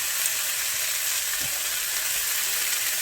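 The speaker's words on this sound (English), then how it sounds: "the peri-peri is going to char and fuse with the halloumi" Halloumi coated in peri-peri frying in a pan, an even, dense hiss of sizzling fat that holds steady and close the whole time, with no talking.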